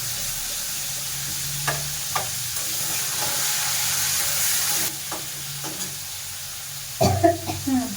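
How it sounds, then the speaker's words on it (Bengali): Prawns fry in hot oil in a home kitchen, giving a steady hiss and sizzle throughout with occasional spoon clinks and stirring knocks, ending in a louder clatter. "তেল গরম হয়ে গেছে, এবারে আমি চিংড়ি মাছগুলো আগে ভেজে নেব।"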